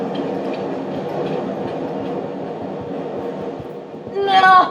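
A Chicago Blue Line train rumbles steadily nearby with a rhythmic rattling clatter, then a bright squealing, ringing tone rises loudly at the end.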